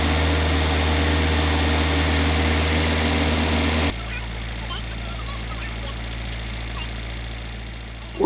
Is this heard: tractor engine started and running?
yes